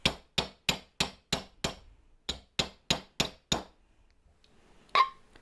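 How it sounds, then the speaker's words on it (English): An awl is punched through the lid of a glass jar for a Christmas tree light craft, giving a quick series of a dozen sharp tapping knocks in steady rhythm, a short pause, then one last louder hit, all close. "I'm going to take this awl and I'm just going to punch it"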